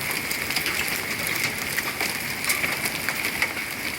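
A hailstorm in Spring Hill, Florida pelts down in a close, continuous clatter of sharp impacts, with a few faint cooing bird notes behind it and no voices.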